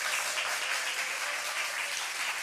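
An audience at a Korean church worship service applauds, a steady, moderately distant patter of many hands clapping continuously for a couple of seconds.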